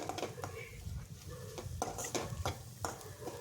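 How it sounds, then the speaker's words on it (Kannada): Egg fried rice stirred and tossed in a pan, with a metal spatula repeatedly scraping and clattering against the pan over a low continuous sizzle, close and steady throughout. "ಈಗ ಎಲ್ಲದಕ್ಕೂ ಅಪ್ಲೈ ಆಗೋ ಥರ ನೀಟಾಗಿ ಫ್ರೈ ಮಾಡ್ಕೊಳ್ಳಿ"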